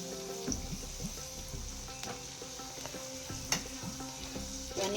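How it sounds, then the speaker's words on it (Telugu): Sliced onions fry toward golden brown in oil for paneer biryani, sizzling steadily and softly with light stirring clicks and scrapes. "ఇవన్నీ గోల్డెన్ కలర్ వచ్చే వరకు వేయించుకోవాలి."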